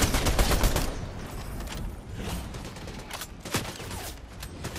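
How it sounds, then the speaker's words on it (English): Gunshots in a Fortnite battle royale match, opening with a loud rapid volley, then scattered sharper shots at varying distance, with no talking heard. "Somebody's shooting."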